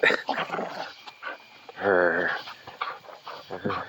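An excited dog just let out of a car after a ride growls and whines up close in short eager bursts, with a loud whimper in the middle.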